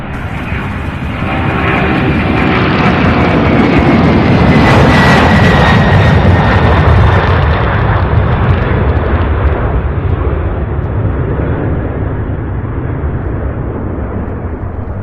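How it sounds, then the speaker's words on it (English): A UPS MD-11 cargo jet takes off at Louisville International Airport, its engines a loud, broad roar that swells within the first seconds and holds steady, slowly dulling as it climbs away, with no talk over it. "Beautiful takeoff. We love the MD-11s."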